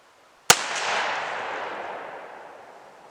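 One loud, sharp blast from a turkey shotgun fired outdoors at a target 40 yards away, followed by a long, rolling echo that fades over a few seconds.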